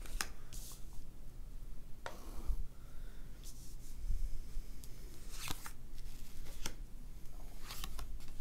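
Trionfi Della Luna tarot cards with a standard, non-glossy finish are handled up close, giving soft riffling, sharp snaps and papery slides as they are shuffled and laid out, with no talking.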